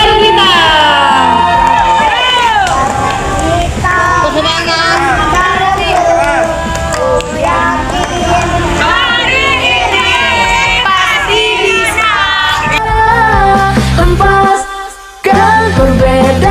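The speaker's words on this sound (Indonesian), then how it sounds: "Tepuk tangan untuk Garung Gitar." A large crowd of scouts at a scout jamboree cheers and shouts loudly and continuously, with children's voices and a music-like harmonic din filling the scene, dropping briefly near the end before resuming.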